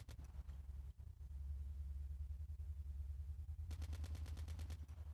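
Gunfire in the Call of Duty Mobile battle royale game rumbles steadily beneath a low drone, with a clear burst of rapid repeated shots toward the end.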